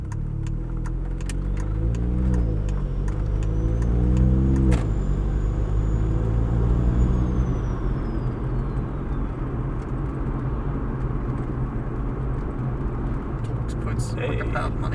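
A Volvo T25 turbocharged engine, the T25-550 running over 2 bar of boost, roars loudly and steadily, with a thin turbo whistle that rises, holds and then fades as it spools up under boost.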